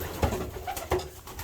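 Racing pigeons coo softly inside a loft, with a few low, throaty calls close by over a faint background hum and no talking.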